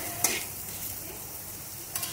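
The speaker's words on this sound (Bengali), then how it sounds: "সয়াবিনগুলো ভাজা ভাজা করে নিতে হবে।" Soybean chunks fry in hot oil in a pan with a steady sizzle, punctuated by two brief scraping clacks of a spatula stirring at the start and end.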